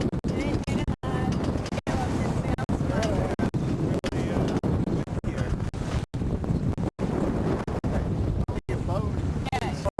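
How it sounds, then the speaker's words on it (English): Strong wind buffets the microphone in loud, continuous gusts, with brief drop-outs and voices talking faintly beneath it. "Serious windy day"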